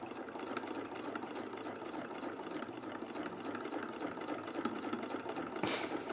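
Sewing machine running continuously while double stitching a morning coat, a steady fast whirring chatter close by with a brief louder burst near the end.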